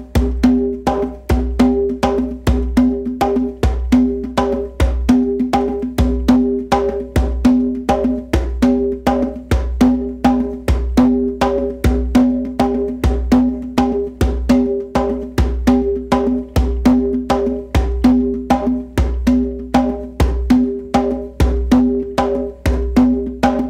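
A hand drum plays a steady 3-3-2 rhythm that mixes open tones, slaps, deep bass strokes and muted tones. The strikes are close and loud in an even, repeating groove, with no talking over them.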